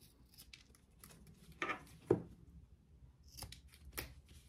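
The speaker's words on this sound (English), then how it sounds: "On my zipper tab, I'm just clipping my excess off because I had just a little." Scissors snip excess material from a zipper tab while sewing a small wristlet, giving a couple of soft, close cuts over quiet handling noise.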